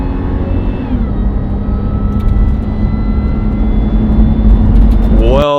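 Supercharged Toyota 4Runner engine running loud and close with a steady droning roar and whine, rising slightly in pitch near the end before cutting off abruptly.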